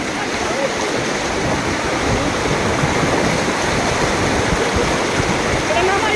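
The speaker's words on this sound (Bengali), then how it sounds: "এখানে অনেক স্রোত, পানির অনেক স্রোত" Strong floodwater current rushes past in a dense, unbroken roar, loud and close, with no let-up across the whole stretch.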